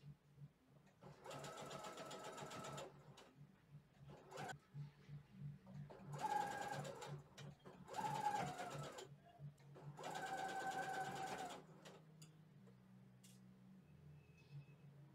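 A sewing machine stitches bias tape along a dress neckline, running in several bursts of a few seconds each with short pauses between them, close and fairly quiet.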